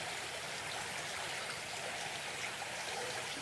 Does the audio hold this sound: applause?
no